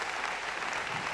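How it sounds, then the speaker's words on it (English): An audience at a student felicitation award function applauds with steady, dense clapping throughout. "Let's cheer for Harshal"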